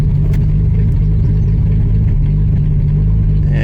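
A 1965 Rambler American engine runs in low gear, a loud, steady, close rumble with a constant low drone and no talking over it.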